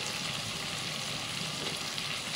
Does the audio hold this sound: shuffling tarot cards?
no